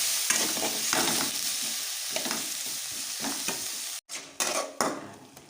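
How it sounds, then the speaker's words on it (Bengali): Onion, tomato and green chilli frying in hot oil as they are stirred, a steady close sizzle with scraping strokes of a spoon against the pan and brief clanks near the end. "এবার এটাকে নাড়ি চাড়ি ভালো করে ভেজে নিতে হবে"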